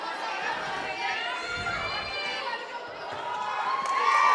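A home crowd in a school fieldhouse gym at a volleyball game makes a steady roar of chatter and cheering, with a few shouts and squeaks rising near the end, mixed with voices.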